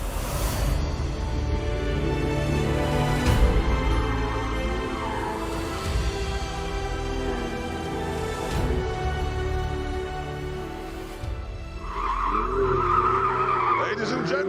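A Ferrari 488 slides through a purpose-built corner, its tyres scrubbing and squealing under steady, loud engine roar, with a sharp rising squeal near the end.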